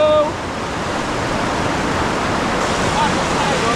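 A river flows close by in the Coto Mines area of Masinloc, Zambales, a dense, steady roar of rushing water filling the whole stretch without talk.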